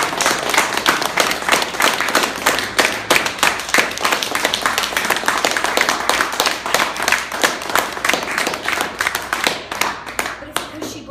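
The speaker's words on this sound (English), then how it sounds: "Can I just get a round of applause?" An audience breaks into sustained applause, dense and loud clapping from many hands continuing steadily for several seconds before thinning slightly toward the end.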